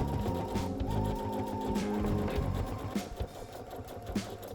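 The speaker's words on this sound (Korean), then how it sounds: "모서리에서 바늘이 꽂힌 상태로 노루발만 들어서 방향을 틀어주고 반대쪽 모서리에서도 방향을 틀어서 끝까지 봉제해주세요." A sewing machine stitching the facing along the edge of a work apron, with a fast, steady mechanical whir close by and a brief slowing near the end as it turns at a corner.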